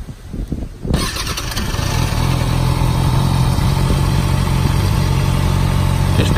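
A Kawasaki ZX6R cafe racer motorcycle engine cranks and fires after a moment of handling noise, then settles into a loud, steady idle close by.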